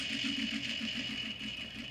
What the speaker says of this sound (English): we're going to stitch this at a 1/2 inch